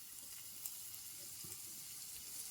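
A curry base of potato and palak for chapati fries in a pan with a soft, steady sizzle. The hiss is faint and continuous, broken by a few small pops.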